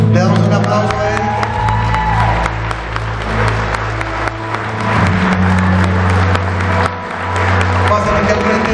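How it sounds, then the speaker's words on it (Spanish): Loud, sustained audience applause with scattered cheers fills a church service, continuing steadily throughout with a low hum and music underneath. "Le damos un aplauso a él."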